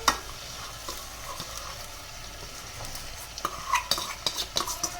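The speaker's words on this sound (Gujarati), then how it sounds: "હવે આપણે આ બધી વસ્તુ સારી રીતે તેલમાં સાતળી લેશું।" Vegetables including large potato pieces and soaked cooked rice are stirred and sautéed in oil in a pan, producing a soft continuous sizzle with intermittent scraping and clinks of the spoon, louder toward the end.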